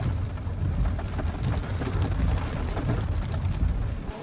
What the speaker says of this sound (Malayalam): നല്ല മഴയും തുടങ്ങി